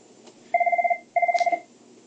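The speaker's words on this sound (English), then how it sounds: "Sorry for the ringing phone, by the way." A telephone rings twice in quick electronic trills, each burst about half a second long, fairly loud and close with no talk over it.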